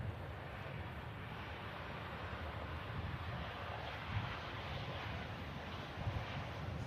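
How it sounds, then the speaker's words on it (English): A distant Air Transat airliner taxiing after touchdown makes a low, steady rumble blended with wind buffeting the microphone, faint and unbroken, with no speech. "the Air Transat continues its taxi."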